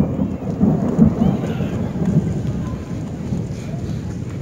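Thunder rolls low and heavy through a rainstorm, a deep sustained rumble with steady rain hiss underneath, fairly loud and continuous.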